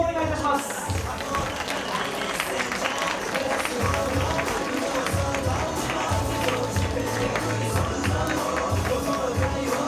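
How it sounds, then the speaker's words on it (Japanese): Audience at a kickboxing fight event applauds the fighters after the decision, a steady wash of many hands clapping, with crowd noise throughout and an announcer's voice over it. "大きな拍手をお願いいたします"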